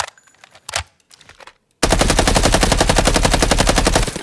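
In a shooter game, an assault rifle fitted with a cheap silencer fires one long rapid automatic burst of evenly spaced, muffled shots, after a few soft clicks and handling noises.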